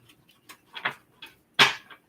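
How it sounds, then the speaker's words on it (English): Tarot cards being shuffled for a final time, a run of soft riffling flutters and light taps ending in one louder burst of cards snapping together near the close, with no voices. "Final shuffle."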